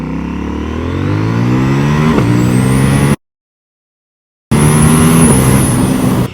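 A KTM 790 Duke motorcycle revs hard and pulls through rising gears during a 0-100 km/h run, a loud, close engine note climbing in pitch with a brief gear-change dip, cut by a short silent gap before resuming at full roar.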